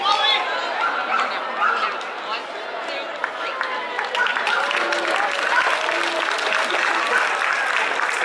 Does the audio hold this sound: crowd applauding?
yes